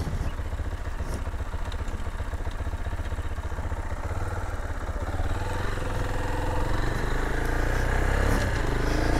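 A Nova SHI 175 EFI trail motorcycle pulls away, its single-cylinder engine rising from a close, steady chug to a louder, harder drone as it accelerates, heard alone without voices.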